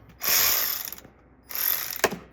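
Ratchet loosening a 10 mm bolt on a car taillight of an MK5 R32, heard as two bursts of rapid clicking close by, the second ending with a sharper click, with no talking.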